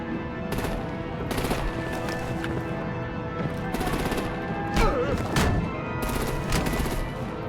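Heavy gunfire in the Batman Telltale Series video game (The Enemy Within), sustained automatic bursts with sharp repeated cracks over a steady rumbling game backdrop, loud and close throughout.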